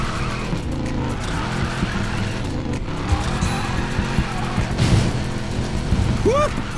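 In the racing game Need for Speed Payback, a car drifts with a constant engine roar and tires squealing under the skid, loud and continuous throughout.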